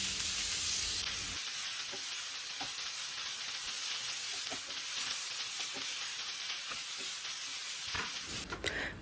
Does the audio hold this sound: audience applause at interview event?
no